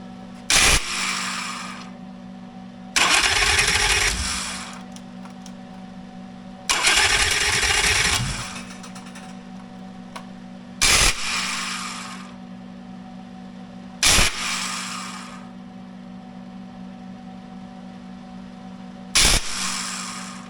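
A motorcycle at a Mecum auction idles steadily while its throttle is twisted in repeated bursts, with two longer revs and several short sharp blips, loud and close, with no talking.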